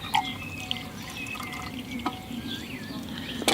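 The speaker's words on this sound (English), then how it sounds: "Just put it over the top of your cup and strain the drink through it." Nettle tea trickles through a bandana strainer into a cup, giving light, intermittent drips and a soft liquid patter that stays gentle and close with no talking.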